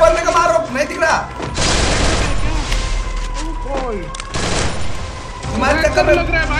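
Gunfire in the Garena Free Fire video game comes as bursts of rapid shots and booms, loud and close, broken by short gaps, with excited voices talking over the action.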